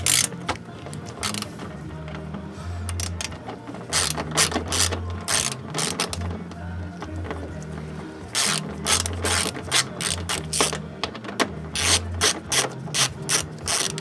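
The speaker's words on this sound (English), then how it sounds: "Next, I'm going to take out these 5 bolts right here." Socket ratchet backing out 8 mm bolts on a Volvo S60 T5 during condenser removal: loud, close clicking bursts in repeated runs with short pauses between them, and no voices.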